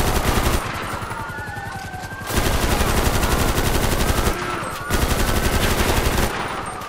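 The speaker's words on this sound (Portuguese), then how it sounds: "Só tirando de fuzil, mano." Rapid automatic rifle gunfire in a video game, loud sustained bursts of shots with short pauses between volleys and a whistling tone running underneath.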